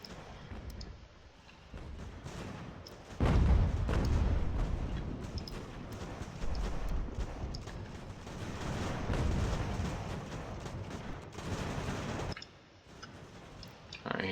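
Cannon and artillery fire in the strategy game Ultimate General: American Revolution, in a large battle for Boston: a continuous, loud rumble of distant booms and crackling volleys, swelling and easing with no talk.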